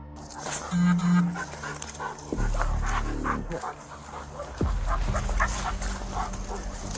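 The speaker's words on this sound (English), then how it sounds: "the new K9 dog, chased the scent like an unstoppable hunting machine" Police K9 dog giving a short bark and panting amid loud, noisy activity, with harsh bursts and sustained low rumbling throughout.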